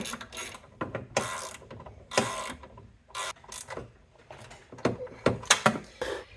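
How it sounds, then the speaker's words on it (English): A ratchet tightens bolts on a 2014 Polaris Sportsman 570 ATV, with bursts of quick clicking pawl strokes separated by short pauses, close up and clear. "I'm just going to torque it down."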